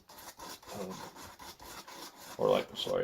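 Steady rhythmic rubbing strokes of sandpaper on a wooden ferro rod handle, close by, with a louder, harsher burst of scraping near the end.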